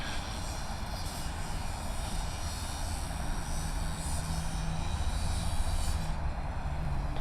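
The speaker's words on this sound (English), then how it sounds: "787 Dreamliner coming in from Auckland with a flight time of 2 hours and 57 minutes" A Boeing 787 Dreamliner arriving from Auckland lands at Sydney Airport, its engines a loud, steady broadband roar holding constant throughout with a slight swell near the end.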